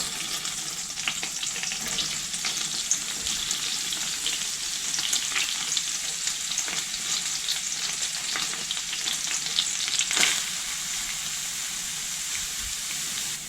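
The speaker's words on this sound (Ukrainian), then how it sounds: "розтоплю його та буду обсмажувати цибулю" Onion frying in 40 grams of melted butter on a stovetop gives a steady, soft sizzle and crackle, with a brief louder spatter partway through and no talking.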